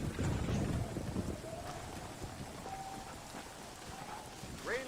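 Heavy rain pours in the Western game Red Dead Redemption, a dense roaring hiss with a low rumble like distant thunder, louder at the start and easing slightly, with faint other game sounds mixed in.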